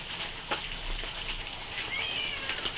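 A cat meows in a pub-style seafood restaurant by the harbour in Sokcho, a faint drawn-out call rising near the end over steady restaurant chatter and clatter.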